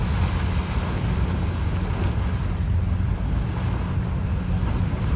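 Strong gush of water pouring out at Dolomite Beach on a shoreline after rain, a dense continuous rushing roar mixed with wind buffeting the microphone, no talking.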